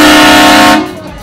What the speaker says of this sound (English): What the hell kind of horn is that?